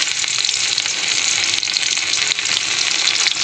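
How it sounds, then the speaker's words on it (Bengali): Chopped garlic sizzles in hot oil alongside broccoli, a steady, close, loud frying hiss that runs without a break and with no voices over it. "ব্রোকলির তেলের মধ্যে দিয়ে দেবো রসুন কুচি"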